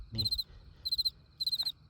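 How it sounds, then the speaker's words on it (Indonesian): Three short bursts of close cricket chirping sound at night in a mountain village in West Sumatra, each a quick pulsed trill, over soft low background rumble. "Ada suara jangkrik, banyak suara jangkrik."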